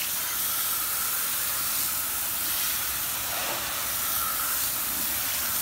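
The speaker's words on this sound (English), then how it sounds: "Gonna hose them off. Give it a quick rinse." A hose sprays water over dirty car wheels during cleaning, making a steady, loud, broadband hiss that holds unchanged for several seconds.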